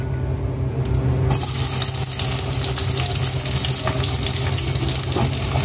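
Onions dropped into hot oil for a coconut milk stingray dish, a sudden loud burst of hissing sizzle after a quiet hum, then continuous crackling frying with scattered pops, no talk.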